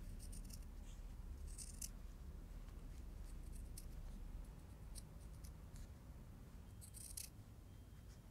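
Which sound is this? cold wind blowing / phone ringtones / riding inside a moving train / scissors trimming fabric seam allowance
scissors trimming fabric seam allowance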